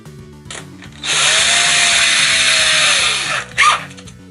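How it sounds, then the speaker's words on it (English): A small drill bit bores pilot holes into a Sega Mega Drive plastic case, a steady whining power-drill run of about two and a half seconds with a falling motor tone, close and loud, then a brief burst as it stops. "we're going to drill some pilot holes so that we get it in the right place, and I'm going to be using a really small drill bit for this."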